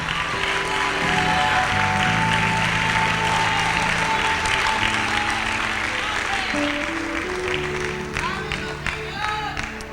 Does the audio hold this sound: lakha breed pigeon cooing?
no